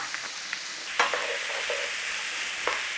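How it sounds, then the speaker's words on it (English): Steady sizzling of lentil bolognese ingredients frying in a pan, continuous and fairly close, with a few light clinks and scrapes of stirring. "Got a nice little sizzle going on there"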